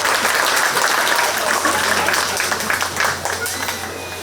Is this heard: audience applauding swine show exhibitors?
yes